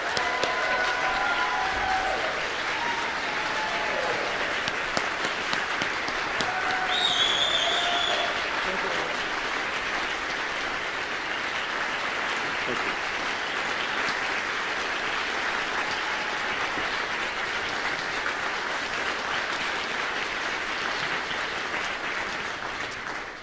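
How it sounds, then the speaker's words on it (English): Audience at the American Pianists Awards finale and awards ceremony gives a sustained round of applause for Joel Harrison, steady dense clapping from a large crowd filling the hall for over twenty seconds with faint voices mixed in. "a big round of applause for what he has done for this great organization"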